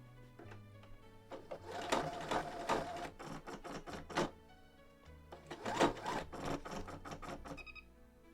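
A sewing machine runs a zigzag stitch on stretch fabric in two quiet stretches of rapid, rhythmic clatter, separated by a brief pause.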